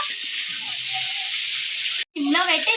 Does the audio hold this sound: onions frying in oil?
yes